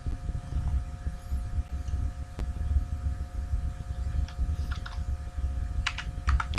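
Computer keyboard typing as data is entered into a thesis demo application, with bursts of keystrokes toward the end over a steady low hum; no voices.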